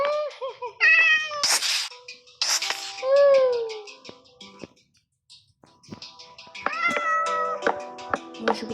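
A cat in the Minecraft video game meows several times in short, separated bursts, clear and close, with a few scattered clicks and sneeze-like noises between the calls.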